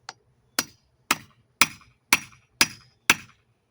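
Seven sharp, evenly spaced hammer strikes drive a grommet setter into a sailcloth sail for a sailing dinghy, each blow a crisp metallic knock with a quick decay, close and alone.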